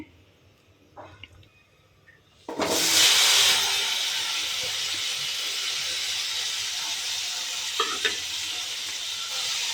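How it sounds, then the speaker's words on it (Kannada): Tomato, onion, tamarind, green chilli and cumin hit a hot pan for chutney: after a quiet start, a loud sudden sizzle erupts and settles into steady, close hissing frying with a faint clink of stirring near the end. "ಟೊಮಾಟೊ, ಈರುಳ್ಳಿ, ಹುಣಸೆ ಹಣ್ಣು, ಹಸಿಮೆಣಸಿನ್ಕಾಯಿ, ಜೀರಿಗೆ ಇಷ್ಟೇ ನಾನು ಹುರ್ಕೋತೀನಿ."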